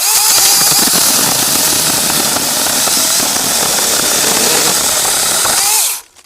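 A TomyVic mini battery chainsaw cuts through a shredded tree limb: a loud, steady motor whine with gritty cutting noise runs continuously for about six seconds, then cuts off abruptly into quiet.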